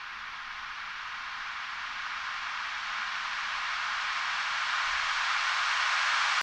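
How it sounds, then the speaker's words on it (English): A steady hiss of white noise slowly swelling in loudness over several seconds, rising toward a sudden end like a reversed impact. "Just like a impact white noise that I reversed."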